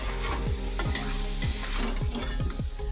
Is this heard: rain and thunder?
no